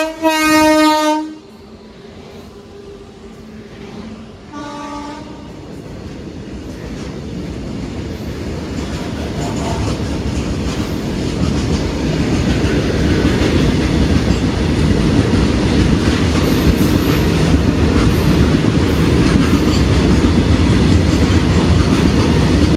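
A train hauled by twin WAG-9 electric locomotives from the Arakkonam loco shed passes a station, opening with a loud multi-tone horn blast, then a second horn, then a steadily building roar of wagons rolling close by.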